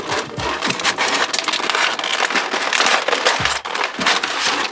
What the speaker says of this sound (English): Let's get this good plastic here open.